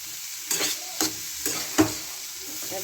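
A vegetable chop mixture of mashed potatoes is stirred in oil in a pan, a soft steady sizzle broken by four spaced scraping strokes of the spatula, close by and with no voices.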